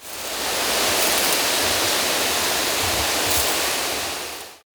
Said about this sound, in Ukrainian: Аби сіянці швидко росли, використовують дощувальну консоль.